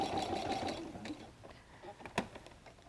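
A sewing machine stitches a messenger bag, a short burst of rapid mechanical whirring that stops after about a second, followed by quiet clicks and handling noises.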